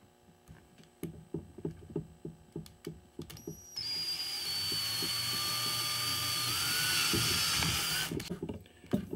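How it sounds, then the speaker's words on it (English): A power drill bores a hole through the housing of a Sony Alpha A100 vertical battery grip during a DIY build, a loud steady whine that holds for about four seconds after a run of tapping and handling clicks. "the best place to drill the hole is about here"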